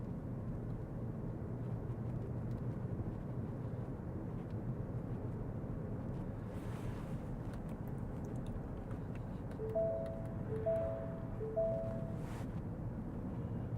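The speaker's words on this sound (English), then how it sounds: "When you turn the cruise control on, it beeps and tells you don't have adaptive cruise control on" Three short, repeated electronic warning beeps from a car's dashboard as cruise control is switched on, faint over a steady loud road and engine drone while driving near Yellowstone.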